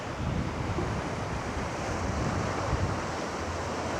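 Ocean waves wash steadily onto a rocky beach, a continuous broadband roar of surf mixed with wind buffeting the microphone, with no distinct individual breakers standing out.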